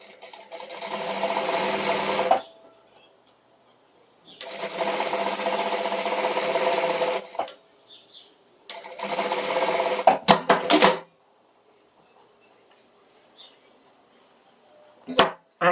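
A sewing machine stitches a patchwork leaf-design placemat in three loud bursts of running, with short pauses and faint handling between them and a brief clatter near the end.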